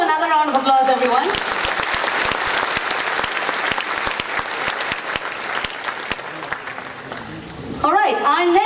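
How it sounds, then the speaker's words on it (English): An audience claps for a navy band performance, dense applause rising after a short lead-in of voices and fading as talking returns at the end. "Give them another round of applause, everyone"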